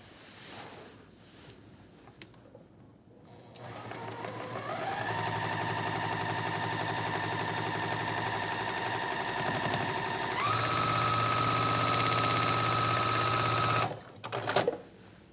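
A sewing machine stitches a quarter-inch seam on a quilt block, running in one long, steady, loud burst after a quiet start, its pitch shifting once midway before it stops abruptly.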